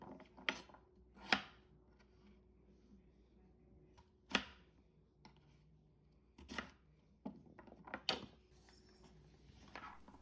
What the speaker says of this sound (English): Stacking them up will make quick work of cutting them into smaller cubes.